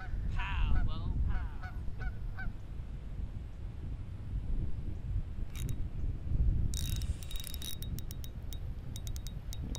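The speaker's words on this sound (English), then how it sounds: "Hey, it's that lonely duck from yesterday." Honking calls from a lone duck on a lake during white bass fishing, several short bursts at moderate distance over steady wind and water noise.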